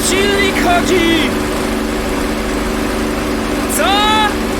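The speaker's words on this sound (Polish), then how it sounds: "bo silnik chodzi" A steady aircraft engine drones loudly throughout at a constant pitch in the flight simulator DCS World, with people's voices breaking in over it now and then.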